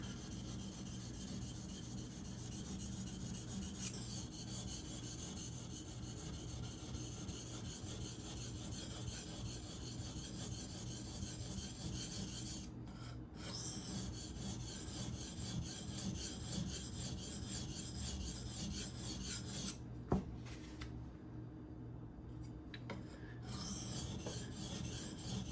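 Steady, close rasping strokes come from grinding down the blade edge of an Esee Izula II knife during sharpening, repeating continuously and evenly with no talk, only a brief pause and a small click near the end.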